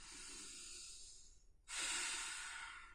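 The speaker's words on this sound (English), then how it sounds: "some deep breathing in and breathing out" Deep breathing, a long airy exhale followed by a brief pause and then a loud, close inhale, heard alone with no talk.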